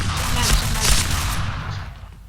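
Rapid bursts of gunfire from the online shooter game PointBlank, loud and close, with shots crowding together in a dense volley that thins out toward the end.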